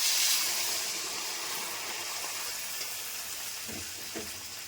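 Steady sizzle from a pan holding boiled taro and chilli powder as water goes in, a broad continuous hiss with a brief louder burst at the start and a few soft knocks near the end.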